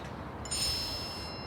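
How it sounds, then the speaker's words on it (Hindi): A phone message notification chimes once: a bright, short ding with a thin ringing tail over a steady low background hiss. "मैसेज आया है,"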